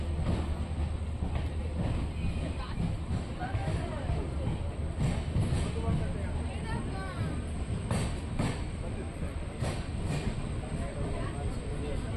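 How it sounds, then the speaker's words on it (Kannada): A passenger train rumbles steadily along the rails between Koppal and Gadag Junction, a continuous low roar with rattling, while people talk over it. "ನಮ್ಮ ಟ್ರೈನ್ ಕೊಪ್ಪಳದಿಂದ ಹೊರಟಿದೆ"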